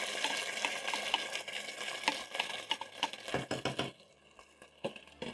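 Rice toasting in hot oil with toasted cumin seeds and spices in a pot, giving a steady close sizzle and crackle broken by scraping stirs, then a quieter lull near the end.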